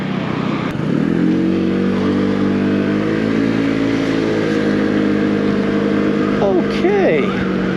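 An MBP SC 125 RE scooter engine rises steadily in pitch as it accelerates on the road, loud and close, with a continuous drone and wind rush throughout.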